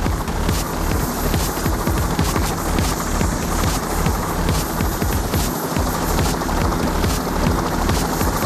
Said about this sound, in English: Come on, fellas, get to the chopper!